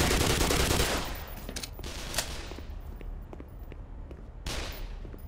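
Gunfire in the Black Mesa video game: a loud, dense burst of automatic fire at the start, then scattered sharper shots and a second heavy volley near the end, with no talk.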